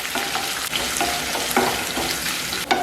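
Sliced green chili and chopped ginger sauté in hot oil for mango pickle, a constant bright sizzle broken by soft stirring scrapes, heard close with no voices.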